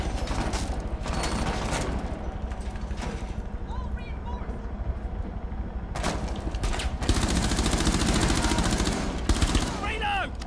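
Rainbow Six Siege gunfire: rapid automatic bursts and single shots cracking over constant game noise, with players talking over the action.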